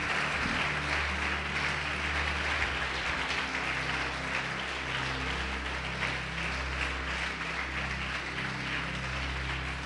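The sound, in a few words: congregation applauding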